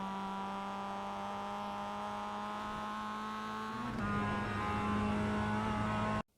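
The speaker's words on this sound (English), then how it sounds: "slam the throttle down once you get to the curb to accelerate onto the long straight" A Mazda MX-5 engine in iRacing at Oulton Park drones steadily as the car accelerates onto the long straight. Its pitch climbs, shifts with a brief dip near the end, then keeps pulling until the sound cuts off abruptly.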